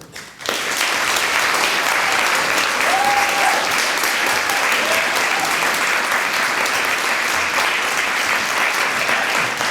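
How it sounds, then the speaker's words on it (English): An audience applauds warmly after a speaker is introduced at a talk series, a dense, steady wash of clapping that starts abruptly and holds at full strength throughout, with no voices over it. "I'd like to invite you to give a big round of applause for Lenny Foster."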